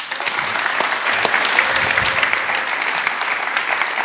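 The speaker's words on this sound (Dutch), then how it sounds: "Maar natuurlijk nog even een daverend applaus voor Kim Raketli." A lecture audience gives hearty applause, a dense, continuous patter of many hands clapping at a steady, fairly loud level with scattered sharper claps.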